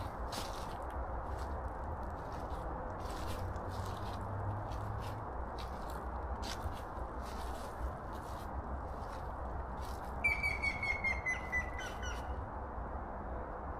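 A small bird gives a quick trill of rapid chirps near the end, over a steady hiss of outdoor noise and occasional crunching steps.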